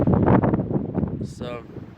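Wind gusts buffet the microphone on a river canoe trip, a dense low rumble with rustling that holds steady for a couple of seconds.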